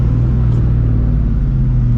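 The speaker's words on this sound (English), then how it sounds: "but you can still enjoy that V8." A 99-04 New Edge Ford Mustang GT V8 rumbles steadily from the cabin on a rainy drive, a loud, deep, continuous low drone with no talking over it.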